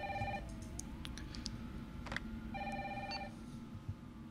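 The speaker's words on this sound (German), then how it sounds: "Da ist mein Telefon." A telephone rings in the Resident Evil 3 Remake video game, with two bursts of electronic ringing separated by a pause, over a steady low ambient hum and no talk.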